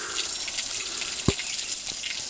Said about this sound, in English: the pretty trickling water that comes off the edge there